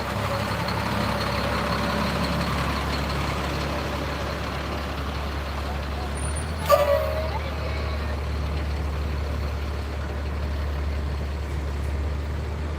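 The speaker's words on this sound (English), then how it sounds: "Next up is a vehicle from the Cloverport Fire Department" A Cloverport Fire Department vehicle rolls past in an evening Christmas parade, a steady low engine rumble holding throughout with a brief sharp burst midway, crowd ambience underneath.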